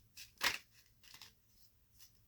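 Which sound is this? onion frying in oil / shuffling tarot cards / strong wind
shuffling tarot cards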